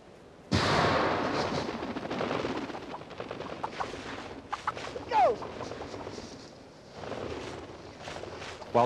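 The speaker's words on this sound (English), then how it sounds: "The use of a cannon net, powered by rockets or mortars, was a major breakthrough in solving this problem." A rocket-powered cannon net fires over wild turkeys at a corn bait site with a sudden loud blast. Rushing, flapping commotion follows, along with scattered bird calls and a short whistling squeal.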